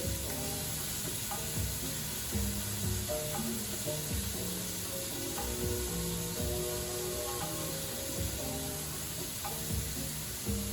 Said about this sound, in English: as our veggies continue to sizzle